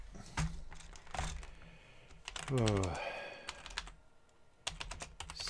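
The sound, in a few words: typing on a computer keyboard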